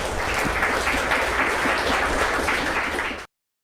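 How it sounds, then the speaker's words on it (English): Steady applause from a sizeable audience for speakers at a religion debate, dense and continuous clapping that holds for about three seconds and then stops abruptly. "Let's give our speakers one last round of applause."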